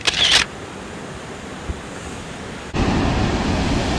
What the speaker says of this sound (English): So dito na tayo sa Shihfen Waterfalls.